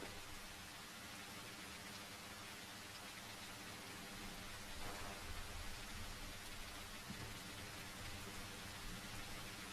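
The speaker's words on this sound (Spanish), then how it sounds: "Me encanta que está lloviendo" Steady rainfall near a beach in the survival game The Isle, a constant soft hiss that runs evenly throughout with no voices.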